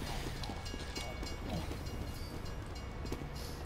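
A train rumbles past in Team Fortress 2, a steady low clatter and rolling rush lasting the whole moment, moderately loud with no talk over it.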